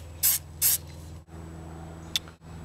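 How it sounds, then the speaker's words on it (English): Two short bursts of aerosol spray hiss in quick succession, followed later by a brief tiny puff, over a quiet background hum. "Give a brief test spray."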